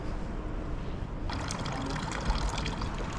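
River water flowing past a shopping complex in Switzerland, a continuous rushing trickle that swells louder partway through, moderately close with no speech.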